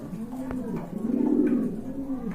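Pigeons coo softly in a steady, rolling murmur, close by, with a few faint background noises.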